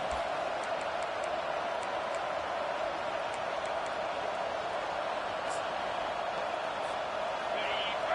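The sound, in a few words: crowd noise at a college football stadium in NCAA video game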